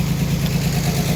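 Engine of a sawmill idling steadily while warming up, a loud, even low rumble close by with no voices.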